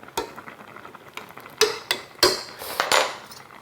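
A metal spoon clatters against a cooking pot of sweet potato dahl, a handful of sharp, close clinks and knocks in an irregular burst with no talking.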